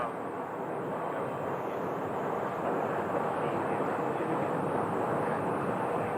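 A plane taxis at Phoenix Sky Harbor Airport, its engines giving a steady, broad, unbroken roar that holds at an even moderate level throughout, with no voices over it.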